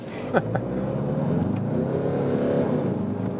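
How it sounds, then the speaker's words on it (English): A diesel car engine pulls away from a standstill at a traffic light and accelerates steadily, with a continuous, loud, rising drone and a brief clunk near the start. "So, really great responsive engine. It's of course a typical diesel sound"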